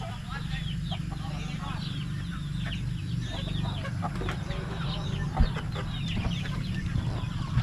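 Backyard chickens cluck steadily at close range, with hens and a rooster calling over a constant background hum. No one speaks.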